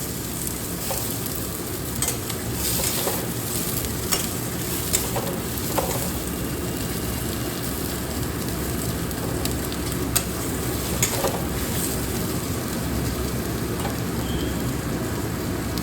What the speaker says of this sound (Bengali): এইবার পেঁয়াজটাকে আমি ভাজবো।